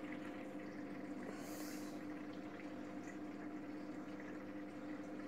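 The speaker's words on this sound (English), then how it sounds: "can hear the water running through it" Steady low hum of water trickling through a small aquarium filter in a planted tank, constant and faint, with a brief hiss midway.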